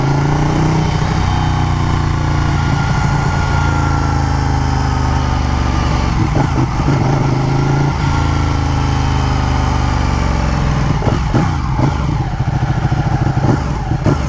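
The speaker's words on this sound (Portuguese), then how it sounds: "Vocês viram aí como faz pra ligar a moto?" A Ducati Panigale 1299 sport motorcycle idles loud and close, its deep uneven engine rumble holding steady throughout with brief throttle blips and rattles.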